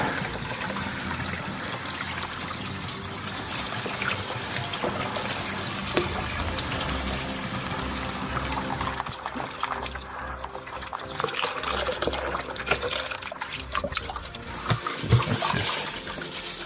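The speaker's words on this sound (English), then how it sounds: "Tea kettle is ready. It's hot water going in." Hot water from a tea kettle pours steadily into bottles to warm them for feeding axis deer fawns, a continuous close splashing gush that shifts in tone as the pour changes and the bottles fill.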